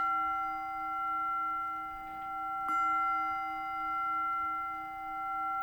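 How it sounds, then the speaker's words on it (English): A single bell rings with a clear, sustained tone that hums on and slowly pulses as it fades, quiet and alone. "So I'm going to ring the bell and we'll get started from there."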